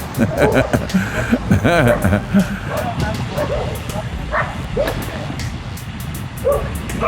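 Several dogs bark and yip in quick bursts at a distance during a bike ride, over a steady engine rumble and a nearby voice.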